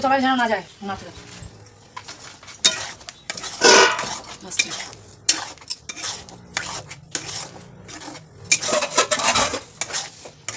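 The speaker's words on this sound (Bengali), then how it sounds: "এবার ভালো করে নেড়ে নেবো।" Utensil clanks and scraping as fish coated in mustard paste is stirred in a pan, intermittent metallic knocks of a spoon against the pan with someone talking over it.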